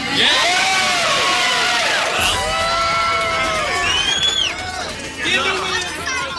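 A large crowd fills Hollywood Boulevard, a dense, loud mix of cheering, shouting and excited chatter that stays steady throughout.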